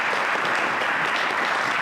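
Steady, dense clapping from a community meeting audience gathered indoors for a street-improvement project, filling the whole moment at an even, moderately loud level with no talk over it.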